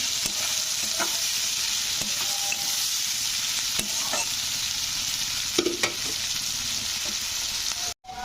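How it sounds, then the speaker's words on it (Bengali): Continuous sizzle of onions frying in oil, steady and close, with occasional scraping stirs and a brief break near the end. "তো এরপর আমি পেঁয়াজ দিয়ে দিলাম"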